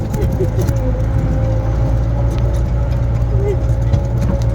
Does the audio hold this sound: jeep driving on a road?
yes